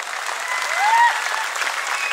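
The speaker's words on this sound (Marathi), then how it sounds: "करा की टाळ्या।" Continuous applause from a crowd at a kushti wrestling event, steady and moderately loud throughout with a faint voice briefly rising above it.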